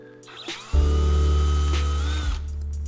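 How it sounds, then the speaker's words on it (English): A power drill bores control-knob holes through a guitar body, starting with a pilot hole from the back. A brief whir is followed by a loud, steady, close-up motor whine lasting well over a second before it winds down. "So I started off by drilling the holes for all of my control knobs."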